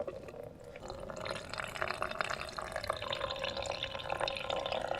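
Water pours from a tap or jug into a cooking pot of rouladen, a steady close splashing and trickling fill with no talking.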